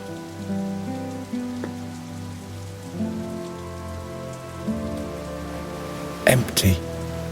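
Steady rain falls throughout an in-game scene of the point-and-click adventure The Dark Eye: Chains of Satinav, beneath layered background music, with a brief louder burst near the end.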